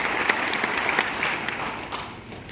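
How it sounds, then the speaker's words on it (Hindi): Audience applause at a talk on Vestige products, a dense steady patter of many hands clapping that carries on evenly and fairly loud throughout. "तो उसके लिए एक बार जोरदार तालियां"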